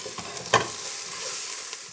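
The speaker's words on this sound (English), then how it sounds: "I gave them a quick swirl so you could see they are caramelizing more" Onions browning in a pot for homemade tomato sauce give a soft, steady sizzle, with a brief louder scrape or stir about halfway through, close and alone without voices.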